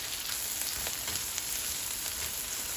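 Garlic and ginger frying with onions in a hot pan give a steady, even sizzle throughout, close and unbroken, with no voices.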